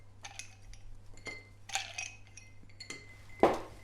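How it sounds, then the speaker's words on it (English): Ice cubes dropped into a glass of apple juice, a series of bright clinks and taps against glass, close and quiet, ending with a sharper knock. "just add some ice"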